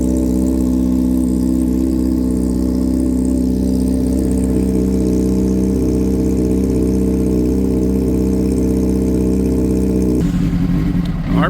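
A Honda CBR600RR motorcycle with a rough idle drones loudly and close, its rhythm uneven as the RPMs stumble, then a sudden change near the end.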